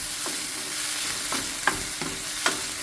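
Finely chopped onion and tomato frying in a pan, an even hiss of sizzling oil punctuated by a few brief spatula scrapes, near and steady, with no voices.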